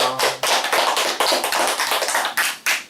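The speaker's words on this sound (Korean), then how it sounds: "하나님께 감사의 박수 드리겠습니다." Many hands clap together in a loud, fairly even burst, a church congregation applauding close by during a Sunday service, with no voices over it.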